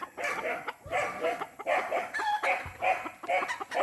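A lemon Boston gamefowl rooster clucks close by in quick, repeated bursts, a busy run of throaty calls that carries on without pause for a few seconds.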